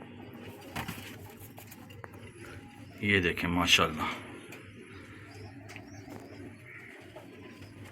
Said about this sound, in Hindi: लो जी ये जसूरिया बड़ा कबूतर है और साथ फीमेल है उसकी